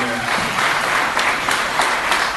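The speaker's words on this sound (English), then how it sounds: "give him a round of applause" Live audience at a podcast recording breaks into applause, a thick continuous clatter of many hands filling the room loudly for a couple of seconds after a brief trailing voice at the start.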